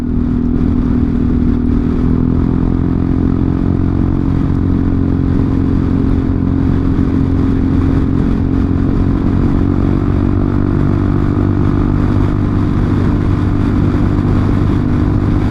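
Steady, loud engine drone of a Honda Forza 350 scooter fitted with an Akrapovic exhaust, a continuous low rumble holding even while riding at easy speed.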